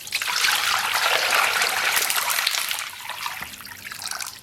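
Water poured into a pot holding pork, a steady close trickling splash that runs for several seconds before thinning into lighter dribbles, with no talking over it.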